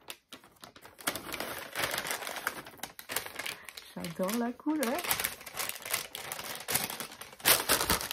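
Paper crinkles and rustles continuously, close and crisp, as wrapping is pulled apart; a person briefly speaks partway through.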